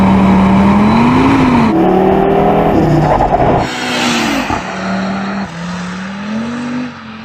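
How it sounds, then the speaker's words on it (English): An Audi RS3's five-cylinder engine revs loudly and close, its raspy note climbing and falling through several rises and drops in pitch with no talking. "the fact that it gets a 5-cylinder engine"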